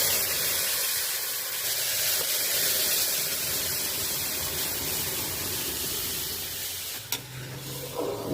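Lentil dal poured into a hot pan of fried red onion, garlic and cumin seeds, giving a steady, continuous sizzle and hiss throughout with no talk.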